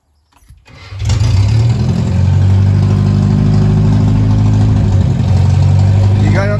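A Datsun 1500 ute being started and driven around a yard: the starter cranks briefly, then the engine catches and settles into a loud, steady idle and rev close by, with talk under it.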